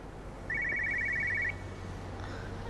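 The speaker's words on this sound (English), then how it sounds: "I hear a phone." A telephone rings once in the video game Everybody's Gone to the Rapture, a bright trilling electronic bell lasting about a second over quiet ambient hum.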